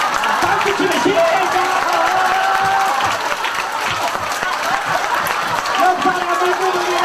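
Audience clapping at a cancer seminar, a crowd clapping steadily in a large hall with cheers and tonal voices rising over it, busy and loud throughout.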